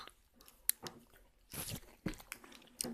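Close crunchy bites and chewing of a Tico chocolate-coated ice cream, irregular crisp crunches with soft squishy mouth sounds in between, fairly quiet with no talking.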